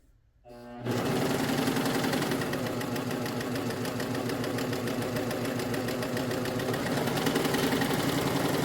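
A Bernette Funlock B48 overlocker sewing a three-thread super stretch seam on stretch fabric starts up after a brief quiet moment, then runs as a fast, even, buzzing whir at close range with no talking.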